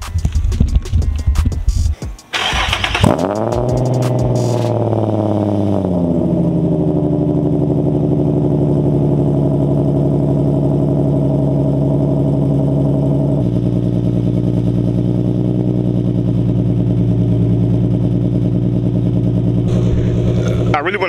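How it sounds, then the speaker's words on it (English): An Infiniti G35 coupe with a broken exhaust hanger cold-starting close by: rough cranking, a sharp catch and rev flare, then a loud, steady high idle that drops slightly in pitch partway through. "So I'm gonna give you guys a cold start anyway"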